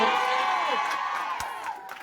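A big crowd at a political caucus rally for Mayor Vico Sotto in Pasig shouts and cheers in a loud, continuous roar with whoops rising above it, tapering slightly by the end.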